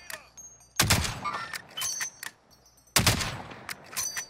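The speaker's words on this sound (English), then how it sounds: "I just sniped someone out of that heli." Sniper rifle fire in a video game, with two sharp loud reports about two seconds apart, each followed by a short ringing tail and small clatters.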